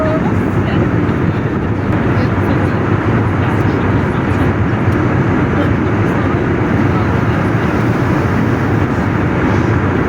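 Steady, loud, broadband engine roar and air rush inside the cabin of an Air Arabia Airbus A320 in flight from Moscow to Sharjah, continuous and unchanging throughout.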